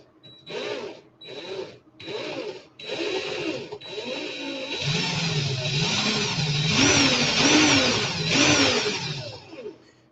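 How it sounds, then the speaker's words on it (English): A power drill running in reverse whirs in several short bursts while coiling vape wick wire, then runs continuously with a loud, close, wavering mechanical whine. "put my drill in reverse."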